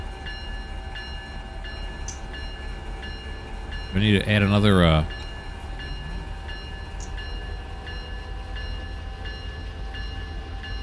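A heavy freight train in Run 8 Train Simulator, with a steady low rumble throughout and a loud harmonic horn-like blast near the middle; someone talks briefly over it.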